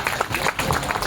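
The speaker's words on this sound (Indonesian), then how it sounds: "dan sekali lagi tepuk tangan buat Firly dan Mama Has Banjarnya." A crowd applauds at a shop reopening ceremony with steady, dense clapping throughout, moderately loud and continuous.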